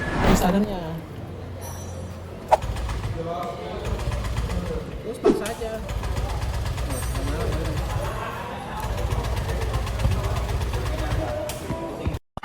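Honda Vario 150 scooter engine idling with a faulty, noisy, rough, rattling chug under continuous talking, with a couple of sharp clicks along the way.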